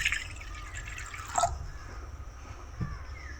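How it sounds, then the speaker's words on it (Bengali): Water is poured into a wok at the start of making mashed colocasia leaves, giving a short trickle and a couple of drips and splashes, close and fairly quiet, with no talking. "কড়াইয়ের মধ্যে প্রথমে পানি দেওয়া হলো।"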